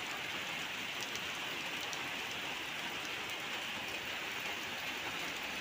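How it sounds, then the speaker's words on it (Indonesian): Heavy tropical rain falls in Sabah as a steady, even hiss of drops pattering on surfaces, heard at a low level and unbroken throughout, with no voices. "Hujan guys."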